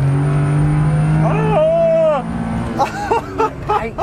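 A tiny Suzuki van drives at speed, its engine a steady loud hum with a rising whine, while people talk over it inside the cabin.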